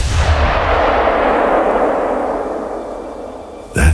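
Rifle shot in the hunting game theHunter: Call of the Wild, a single loud booming report at the start that rolls off into a long fading echo, followed by a brief sharp thump at the end.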